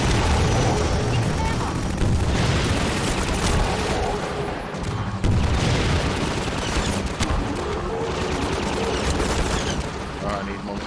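Rocket launcher fire in the video game Half-Life 2, set in a continuous loud wash of gunfire, explosions and booming blasts that runs for the whole stretch, with heavy bursts near the start and around the middle.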